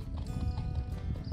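A 17-hand black Hanoverian gelding, foaled 2012, clip-clops steadily on its hooves, a close, continuous run of low thudding steps with no talk over it.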